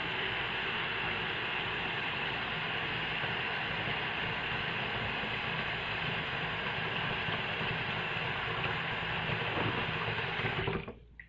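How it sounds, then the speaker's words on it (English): Tap water pours steadily into a bathroom sink in a wet-shaving setup, a constant even rush heard alone and close, stopping abruptly at the very end. "let me fill up the sink so I can rinse the razor in between"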